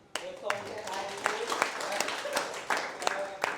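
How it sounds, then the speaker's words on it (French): An audience at an osteopathy introduction conference at Siem Reap Provincial Hospital applauds students, a steady mass of claps with sharper accents through the clip and a voice speaking over part of it. "Je voudrais vous demander de les applaudir parce qu'ils ont beaucoup travaillé pendant 3 ans."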